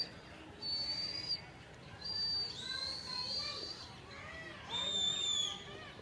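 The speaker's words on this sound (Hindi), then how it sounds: "मेरा भाई सीटी भी बजाने सीख गया है देखो" A person whistles among pigeons kept by pigeon fanciers, with short, bright, sustained whistle tones repeated about three times between gaps, fairly close, over a steady outdoor background.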